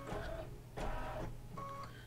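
An embroidery machine stitches a heart mug rug in quick, faint mechanical bursts, a soft whirring chatter with pauses between runs of stitches.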